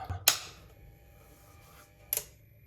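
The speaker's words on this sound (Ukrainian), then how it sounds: "Так, як чуємо, стабілізатор у нас щолкає." Voltage stabilizer starting up in a backup power setup for a gas boiler, giving two sharp relay clicks about two seconds apart over a faint hum in a quiet room.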